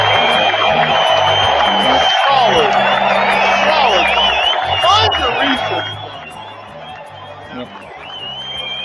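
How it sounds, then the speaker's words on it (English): A crowd cheers, whoops and hollers loudly in one continuous roar that softens toward the end, while a voice talks over it. "Crowd cheering."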